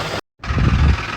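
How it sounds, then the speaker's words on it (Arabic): A Ford car engine idles with a knocking noise after a radiator and cooling-system flush, with the oil gauge dropped out. A steady, close, dense mechanical rumble runs throughout, broken by a brief silent gap near the start. "وطلع عندي صوت في الماكينة"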